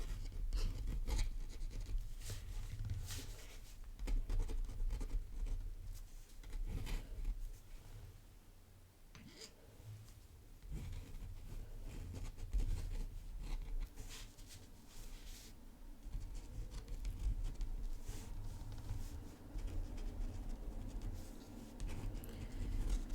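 Fountain pen nib scratching across paper while drawing flower line work with ink, a steady dry scratchy rasp of short strokes and pauses, close and continuous over faint room noise.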